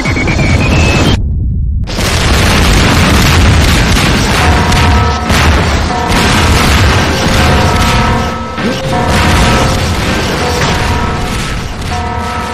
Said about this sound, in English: No, what's bad is that next torpedo seems to be coming my way.